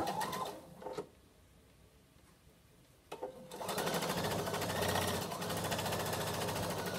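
A sewing machine stitches through several layers of fabric to close a pouch, a quiet steady run after a brief start-and-stop, with its rapid mechanical needle rhythm continuing for several seconds.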